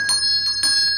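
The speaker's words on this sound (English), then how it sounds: "who's ringing the bell?" A small bell rings in quick, bright dings, two clear strikes close by with a lingering metallic shimmer.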